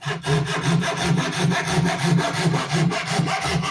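A hand saw with one rough side and one finer side cuts through wood in quick, steady back-and-forth strokes, loud and close with an even rasping rhythm and no talk.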